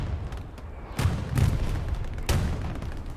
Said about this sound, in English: it's just both sides shelling artillery on the area here